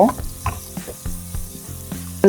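Capsicum, onion and green chillies frying in oil in a pan for a Ramadan iftar snack, a steady close sizzle broken by several stirring clatters and scrapes of a utensil, with a louder knock at the very end.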